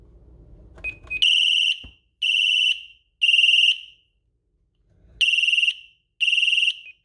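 A Simon XT security panel sounds its fire alarm as loud, shrill electronic beeps in two groups of three and two, with a pause between them.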